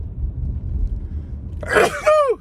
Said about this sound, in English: I know I'm gonna sneeze.